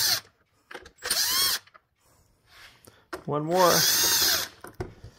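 A power driver runs screws back into old parts on a 1979–86 Fox Body Mustang during a volt meter install, in two short whirring bursts a couple of seconds apart, with someone speaking briefly between and over them.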